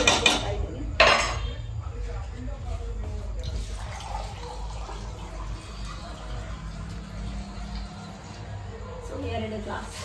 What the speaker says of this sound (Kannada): ಅಕ್ಕಿ 2 ಗ್ಲಾಸ್ ನೀರು ಹಾಕ್ತಾ ಇದ್ದೀನಿ